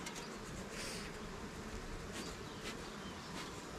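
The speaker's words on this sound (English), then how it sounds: "These bees aren't happy at all." Agitated honey bees swarm close around a beekeeper at the hive, and their dense, continuous buzzing holds steady and loud throughout with no talk.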